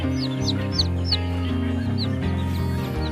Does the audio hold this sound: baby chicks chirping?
yes